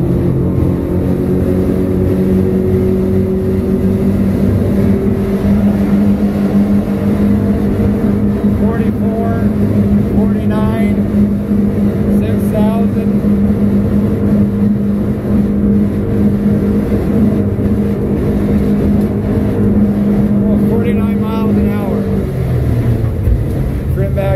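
A Stabicraft 2500 boat's outboard engine runs hard at wide open throttle: a steady, loud motor drone that holds continuously the whole time, dropping slightly near the end, with faint voices underneath.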